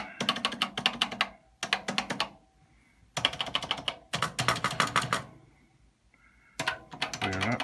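Bursts of key presses on a Commodore PET computer keyboard, fast irregular clacking in several runs separated by short pauses, close and fairly loud with no talking.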